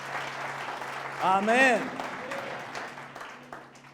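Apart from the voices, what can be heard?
congregation clapping in church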